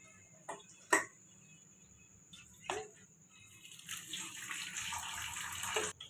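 Cold water runs from a kitchen tap over boiled macaroni in a strainer, a soft steady splashing stream that builds toward the end, with a few sharp clinks of metal near the start.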